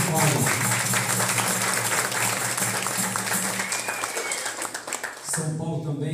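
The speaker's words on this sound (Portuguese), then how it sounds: "uma salva de palmas, galera." An audience at a capoeira group event bursts into loud, dense applause that holds steady for several seconds before tapering off, with voices mixed in.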